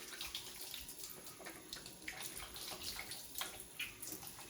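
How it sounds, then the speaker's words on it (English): Tap water runs steadily into a sink while hands are washed beneath it, a close, continuous splashing broken by small bursts of scrubbing and rinsing, with no talking. "And then you want to make sure you're washing your hands."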